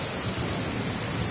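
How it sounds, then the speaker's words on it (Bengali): Heavy downpour in Khamis, Saudi Arabia, with thunder, a dense unbroken roar of rain hammering surfaces close by and loud throughout. "জমজমাট বৃষ্টি দেখিনি"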